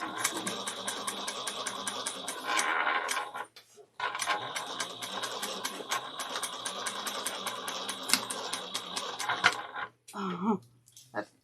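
A sewing machine basting two fabric layers together runs in long steady stitching bursts, with a brief stop near the middle and a short pause and small clatter toward the end.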